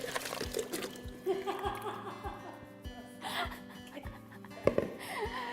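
Cold water poured over propped-up bare feet as a hydrotherapy treatment, a splashing trickle close by with a voice talking over it.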